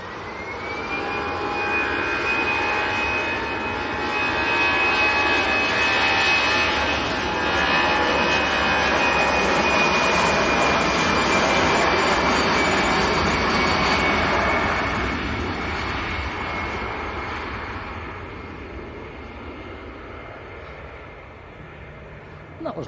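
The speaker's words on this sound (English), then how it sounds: "And that was Lufthansa to Munich." A Lufthansa jet departs Manchester Airport for Munich, the engine roar swelling with a high whine, peaking mid-way and then slowly fading into the distance.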